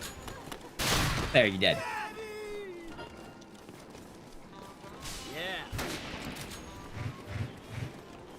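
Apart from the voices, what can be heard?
gunfire in a video game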